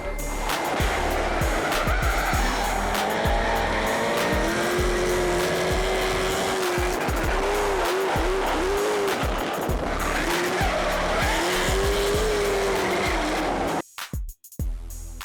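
Robbie Bolger's 800-horsepower Monaro drifts with a loud, continuous engine roar and long wavering tire squeals layered on top, ending with abrupt choppy gaps.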